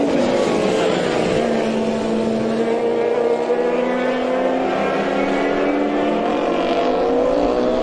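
A racing motorcycle pulls out of the pit lane at the Manx Grand Prix, its loud engine note rising through the gears in climbing tones over several seconds, close and unbroken.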